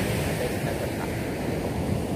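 Ocean waves at Pasir Putih beach, Ujung Genteng in Sukabumi, make a steady, fairly loud broadband wash of surf with no distinct breaks, mixed with some wind.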